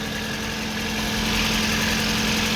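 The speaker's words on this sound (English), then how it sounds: "Cam belt sounds a bit rattly, or drive belt." A Ford Fiesta engine runs steadily at idle with a rattly cam or drive belt, a close, loud, even mechanical hum with a fine ticking rattle and no talk.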